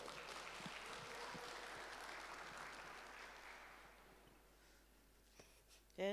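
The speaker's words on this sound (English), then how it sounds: "Can we clap hands for her?" Audience clapping at a youth business breakfast, steady but fairly quiet and distant, fading out over several seconds before a brief sound at the end.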